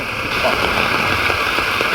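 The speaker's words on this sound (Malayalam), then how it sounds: "ഇവിടെ നല്ല മഴയാണ്" Heavy rain falls outdoors, a dense, steady hiss of downpour filling the scene at constant loudness without speech.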